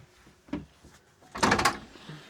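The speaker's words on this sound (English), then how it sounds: "While you got the door open, Louise" A storage door on a 40-year-old 4x4 overland vehicle opens, with a couple of soft knocks followed by a louder sliding, rattling rush near the end, heard close by.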